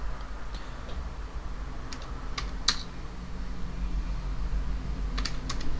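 Someone types an address on a computer keyboard, with sparse clicking keystrokes in small clusters, close by, over a steady low background hum.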